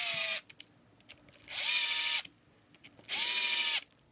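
A power drill drives screws while an RC car is assembled, firing off three sustained whirring bursts of about half a second each, with the pitch dropping as each screw seats. Short pauses between the bursts are filled with faint handling clicks.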